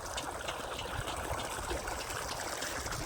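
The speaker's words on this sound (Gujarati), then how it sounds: "મશીન ચાલુ થઈ ગયું છે આપણું અને હવે આપણે જવાનું છે પાણી વાળવા." Water pours steadily from a running irrigation pump on a farm, a faint, even trickling and splashing flow with no talk over it.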